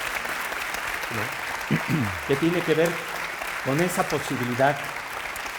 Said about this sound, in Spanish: sigamos con el aplauso